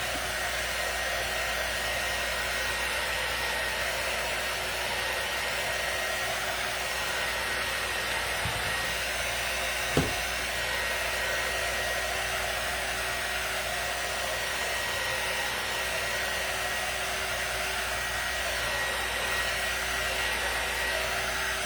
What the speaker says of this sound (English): So this is a heat gun drying tool.